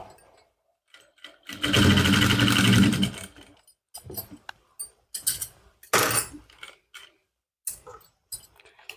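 A sewing machine stitches trouser fabric in one long steady run, followed by short stop-start bursts of stitching with quiet gaps between them.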